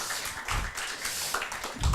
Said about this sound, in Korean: 네, 박수 한번 쳐주세요.